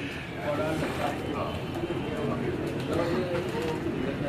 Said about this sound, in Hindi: ये आप एक कबूतर देख रहे हैं